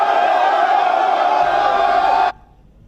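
A crowd of Cameroonian soldiers greets a defence minister with a loud, sustained collective shout or battle cry that holds steady for about two seconds and then stops abruptly.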